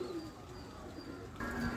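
Racing pigeons kept in a cage, some suffering from pox, coo softly at a distance with a low, gentle murmur against quiet background noise.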